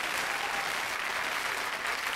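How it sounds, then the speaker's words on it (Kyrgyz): An audience claps at a concert by a Kyrgyz singer, a dense, steady burst of applause from a crowd that fills the whole moment without any voice over it. "кол чабуулар сонун керемет"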